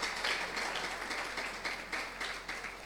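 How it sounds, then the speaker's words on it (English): An audience at an entrepreneurship workshop seminar claps steadily for a few seconds, a dense, even patter of many hands at moderate distance with no break and no talk over it. "Yeah, please, let's clap better."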